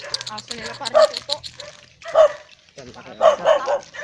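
Several high, yappy puppy barks come in short bursts among people talking over them, close by and fairly loud.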